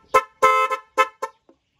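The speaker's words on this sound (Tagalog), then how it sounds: "etong tawag dito, compact horn" A compact car horn honks in short bursts: a quick beep, a longer blast, then three more short toots, close and loud.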